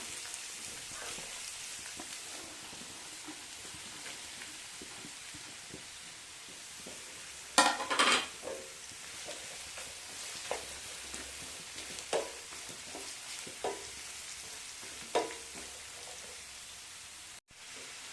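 Ginger sizzles in hot oil for a mango-ginger pickle, a soft continuous hiss with a few sharper bursts and scattered stirring clicks close by.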